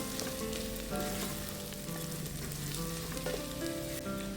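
Chili sautéing in hot oil in a pan for a beef dish, a steady close sizzle and crackle with occasional stirring scrapes, continuous throughout.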